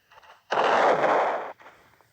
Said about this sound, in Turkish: Patlıyor bir anda. Bir anda patlıyor böyle hani.